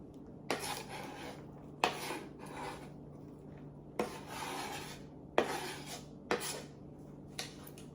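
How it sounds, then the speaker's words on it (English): A knife roughly chops onions on a board for a tomato cucumber summer salad, giving five or six distinct, close scraping chops spaced about a second apart, each a sharp knock trailing into a short rasp. "I'm just gonna do a few more little rough chops through these onions here"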